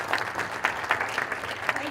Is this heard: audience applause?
yes